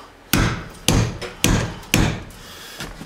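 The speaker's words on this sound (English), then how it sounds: "Nothing a little hammer action we can't fix." Hammer blows driving a socket onto an extension while taking apart an F150 truck, four sharp metallic knocks evenly spaced about half a second apart, loud and close.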